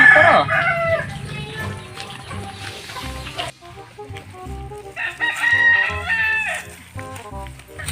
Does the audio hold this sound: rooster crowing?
yes